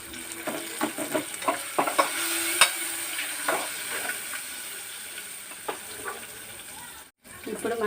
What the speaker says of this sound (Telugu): ఉల్లిపాయలు, ఇలా వేగిన తర్వాత మనం పచ్చిమిర్చి కూడా వేసేసుకుందాం